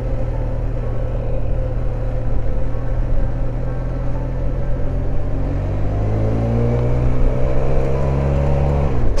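A 2019 Benelli 502 TRK trail motorcycle engine rumbles up close, its pitch climbing through several rising revs before easing and building again, with no talk.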